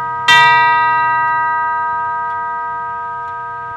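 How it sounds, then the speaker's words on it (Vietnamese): A Howard Miller 610-172 tall grandfather clock sounds its tubular chimes: one bright struck tone rings out loud and clear, then a long, shimmering, slowly fading sustain. "Chơi ống sáo là anh em mình chơi âm chuông ha, âm chuông rất hay ha."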